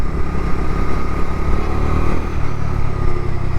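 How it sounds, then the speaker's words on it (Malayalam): A 2025 Bajaj Dominar 250 motorcycle's 250cc engine running close and loud, a continuous throbbing exhaust note with small swells in level and no talking. "കൊള്ളാം കേട്ടോ കിടിലൻ സൗണ്ടാണ് വണ്ടിയുടെ ഭാഗത്തുനിന്ന്"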